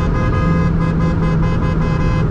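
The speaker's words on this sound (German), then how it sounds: "So hupt also ein Lambo." Horn of a Lamborghini sounding in one long, loud, steady honk close by, with a strong sustained tone and no voices.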